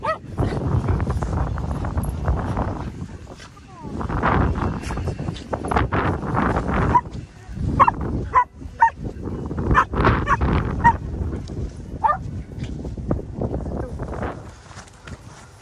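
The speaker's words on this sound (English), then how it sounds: "Let's get no barking from little doggies" Dogs on a daily walk with big dogs, giving a run of short, sharp barks and yelps in bursts amid outdoor noise, fairly close and loud, with whimpering in places.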